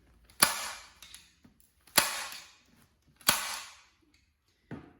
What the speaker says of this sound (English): just go ahead and staple that all the way around